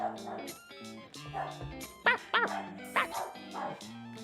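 Small puppies yap and bark excitedly in a rapid, overlapping chorus at a person arriving at the back garden, with high whimpering yips mixed in, close and continuous.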